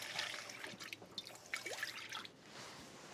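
Water trickles and drips inside an emptied can of crushed tomatoes as it is rinsed in a kitchen, with soft splashes and small bubbling sounds, close and fairly quiet.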